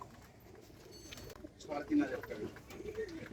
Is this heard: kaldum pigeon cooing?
yes